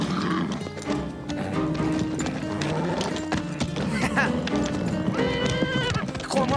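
Horses gallop with rapid clip-clopping hooves and occasional neighs, mixed with music and French-speaking voices shouting over the commotion.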